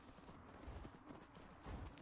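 A few soft hoof clip-clops from a horse in the video game Skyrim, faint and slightly irregular, with a low rumbling background and no voices.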